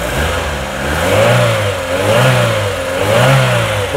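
A Hyundai Getz engine is revved repeatedly, rising and falling in steady swells as it sits close and loud, with no voices.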